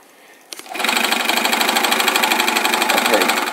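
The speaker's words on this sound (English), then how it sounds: "now you can see the machine pulls the tape through, folds it around" A carpet binding machine pulls 5-inch border tape through and folds it around the edge. It kicks in after a brief click and settles into a loud, steady, rapid mechanical chatter that runs on evenly.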